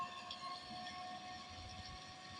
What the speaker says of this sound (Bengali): এই যে ট্রেন যাচ্ছে এখন।